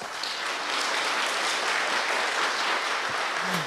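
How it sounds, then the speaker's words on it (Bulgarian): An audience at an IT cluster lecture event applauds the technical team, a steady dense wash of clapping from many hands that holds at an even level throughout, with no voices over it. "Първо аплодисменти за технически екип"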